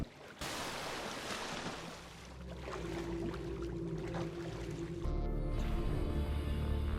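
Underwater-style ambience from the Subnautica survival game keeps playing after leaving the water: a steady, muffled watery wash with drips and a low droning hum, swelling slightly toward the end, with no speech.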